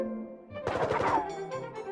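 A rapid burst of electronic machine-gun fire in the video game Fallout 4 rattles for about half a second, then fades into a low synthetic hum.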